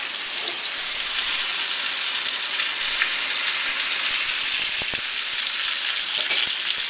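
Pork-stuffed tofu fries and browns in a hot pan, giving a steady, loud, close sizzle with brief crackles and pops throughout, no voices.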